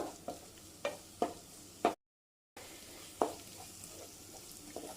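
Chopped tomatoes sauté in a pan for mushroom masala, a low, faint sizzle broken by several sharp spatula scrapes and stirs at irregular intervals, with a brief silent gap midway.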